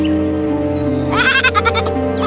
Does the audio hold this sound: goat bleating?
yes